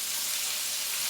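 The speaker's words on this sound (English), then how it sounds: "See them frying nicely" Chicken fillet frying in a pan with a little butter, giving a steady, even sizzle with a hissing crackle throughout and no talk.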